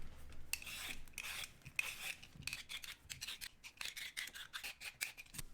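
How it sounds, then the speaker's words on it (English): Vegetables that are gnarly seconds are peeled by hand, a steady run of close, dry rasping scrapes in quick repeated strokes with no talking. "so I'm just going to peel all of these"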